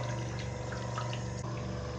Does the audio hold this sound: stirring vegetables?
no